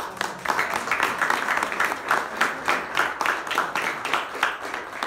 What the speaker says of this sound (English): I think we need to give him another round of applause.